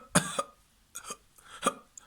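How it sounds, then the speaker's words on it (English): A short series of small coughs sounds as vocal technique is demonstrated for screaming, with three quick, close bursts spaced roughly half a second apart and a tiny trailing one. "Like the same one you do when you do a series of small coughs."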